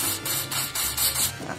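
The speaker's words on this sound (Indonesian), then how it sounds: "untuk membersihkannya kita semprotkan saja karburator cleanernya di tisu atau di kain lap ya" Carburetor cleaner sprayed from an aerosol can onto a tissue or cloth rag while cleaning a car's throttle body, heard as a series of close, loud hissing bursts in a rapid, uneven rhythm.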